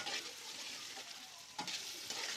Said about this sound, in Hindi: अच्छे से भूनते रहना है।